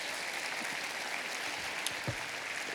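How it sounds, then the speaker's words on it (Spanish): Church congregation applauding at a worship service, a steady, distant-sounding wash of clapping at low level with a couple of slightly sharper claps standing out. "Dale un aplauso al Señor."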